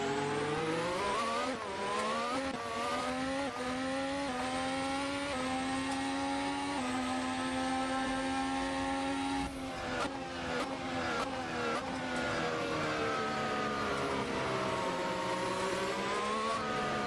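A Formula 4 race car in a racing video game revs hard and loud throughout, its engine pitch climbing and falling through gear changes with rapid shifts near the end, and no talking.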